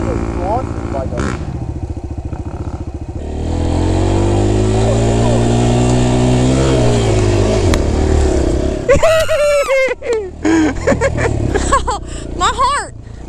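Kawasaki KLX140 dirt bike engine idling then revving hard on launch, rising and falling revs close by, with people talking and shouting over it.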